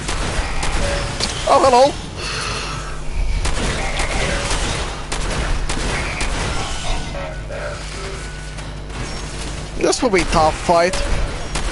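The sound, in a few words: gunfire in the video game Fallout 4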